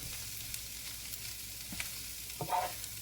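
Pastrami and cabbage fry in a pan while being stirred, a faint continuous sizzle broken by a few soft scraping and clinking stir sounds near the end.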